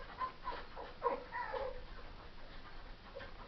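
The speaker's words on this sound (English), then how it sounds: "this dog is over there going crazy" A neighbor's dog, left alone, whines and gives faint, high whimpering yelps at a distance, in a few short bursts early on that trail off into quieter background noise.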